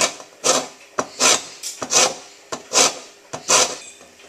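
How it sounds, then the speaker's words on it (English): Unwaxed lemon rind being grated by hand for elderflower champagne, six quick rasping strokes in a steady rhythm, close and fairly loud with brief pauses between them. "so just lightly grate the outside"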